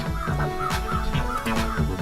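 Honking, clucking fowl calls from a clickable bird in a video game under development, a few short repeated cries over a steady busy game background.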